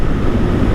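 Steady broadband wind rush buffeting the microphone while riding a 2015 Honda CB300F motorcycle on the highway on a windy day, constant and roaring with no voices.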